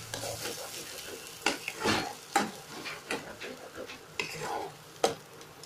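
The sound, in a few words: quickly stirring green pea filling in a frying pan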